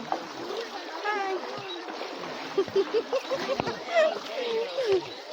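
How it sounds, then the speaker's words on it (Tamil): Feet splash and slosh through shallow water while wading across Kannankurichi's new lake, with irregular close splashes under people talking. "தண்ணிக்குள்ளே இறங்கி நம்ம நடந்து போயிட்டுருக்கோம்."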